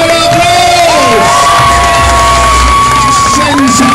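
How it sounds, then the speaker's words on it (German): A large Dortmund crowd cheers and shouts for motorcycle globe-of-speed riders, loud whoops and voices swelling over a rumbling, echoing arena din with a low engine-like drone. "bekommt ihr noch einen richtigen, dicken, fetten Dortmunder Applaus"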